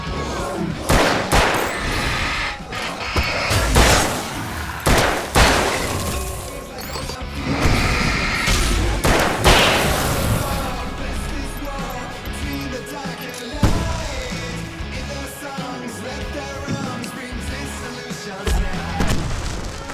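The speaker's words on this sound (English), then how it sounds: "I can set off more of the fireworks from here and help you out!" Fireworks burst in the video game Alan Wake, a loud run of booms and cracks layered with a game soundtrack and other combat noise, with one voice calling out amid the blasts.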